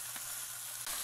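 Soft shell crabs sautéing in a pan over medium heat, a steady close, even sizzle with no voices.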